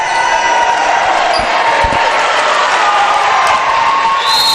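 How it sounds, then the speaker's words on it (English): A college volleyball crowd, Tampa against Barry, roars loudly and steadily after a long rally, with a few sharp thumps and shouts mixed into the noise. "And the crowd is fired up after that one."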